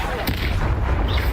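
A Confringo fire spell bursts with a booming explosive blast in Hogwarts Legacy, loud and close, one short rumbling impact over a busy combat backdrop.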